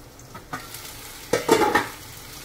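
Meat is added to sautéed garlic and onion for kare kare and stirred in a pan, a quiet sizzle bursting into louder frying and scraping strokes partway through, close by with no voices.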